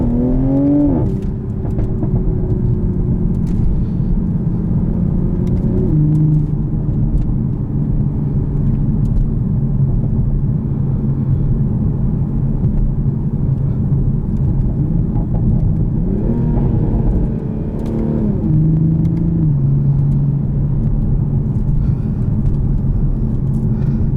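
Engine of a 2020 Toyota Supra 3.0 on a test drive: a steady, loud interior drone with two rising rev swells as it accelerates through gears, continuous throughout with no talking.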